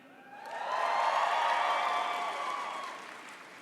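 Crowd of graduates at a university commencement ceremony cheering and applauding, swelling quickly into a sustained roar of clapping and whoops, then tapering slightly.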